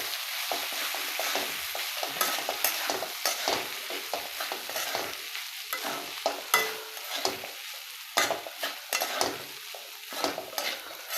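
Washed poha tossed into a pan with turmeric over low heat for kande pohe, stirred and frying with a steady soft sizzle and frequent scraping, clinking strokes of a spoon against the pan, close and without talk.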